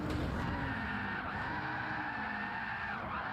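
Tires squeal in a long continuous skid as a heavily modified race car slides out of control in a racing video game, the engine droning loudly beneath the screech throughout.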